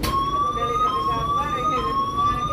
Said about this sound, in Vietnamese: Những cái tiếng còi hú như vậy là tàu bắt đầu đóng cửa.